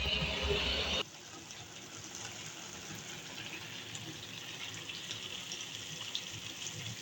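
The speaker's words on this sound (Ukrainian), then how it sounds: "зараз закипає, буду зливати першу воду на паштет" Water that has been boiling for a pâté is poured off, a loud gush for the first second that then drops to a softer, steady trickle and splash for the rest.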